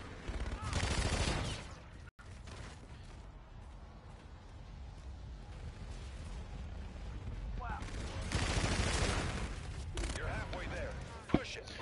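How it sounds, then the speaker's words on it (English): A very fast-firing gun in the shooter Infinite Warfare rattles out dense bursts of rapid gunfire, loud and close, with more bursts later on and someone talking in between. "I'm shooting one of the fastest fucking guns in this game, and I can't get kills"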